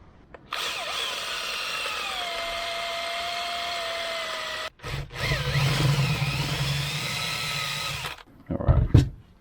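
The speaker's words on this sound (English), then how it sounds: "I think I'll have to drill that one out." A power drill whines steadily while drilling out a stripped screw on the carburetor of a DR200 dirt bike with a seized engine, pausing briefly, then resuming with rougher, lower grinding bursts toward the end.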